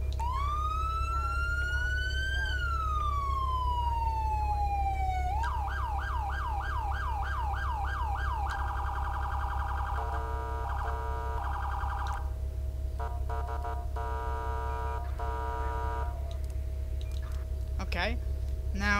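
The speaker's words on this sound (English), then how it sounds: "And then we're going to move on to the sirens." A loud FiveM mod siren sweeps up and down, then shifts to rapid yelping and alternating wail patterns, continuous over a steady low hum.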